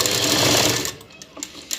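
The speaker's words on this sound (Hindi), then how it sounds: "और अब आपको पहले साइड से सिलाई लाते हुए इस तरफ सिलाई करनी है।" A sewing machine stitches lace onto the edge of a saree, running in a fast, loud whir for about a second before stopping, followed by a few faint clicks and handling noises.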